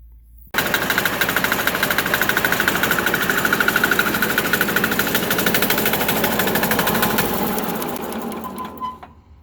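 A 6HP diesel engine fitted to a 48-inch Sears Suburban lawn mower starts abruptly and runs with a fast, loud, knocking clatter. It holds steady for several seconds, then winds down and stops.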